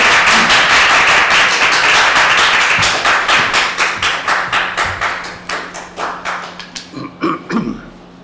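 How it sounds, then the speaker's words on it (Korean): A congregation at a church lecture in Atlanta claps to welcome the pastor: a dense burst of applause thins into slower, distinct individual claps that trail off, close and loud with no talking. "박수로 환영하겠습니다."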